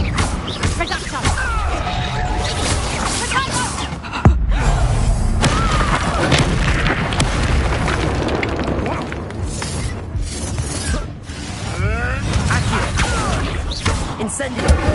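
Reducto blasting spells burst in Hogwarts Legacy amid dense, continuous game action, with a sharp loud hit near four seconds and further crashes and thuds layered under music and effects throughout.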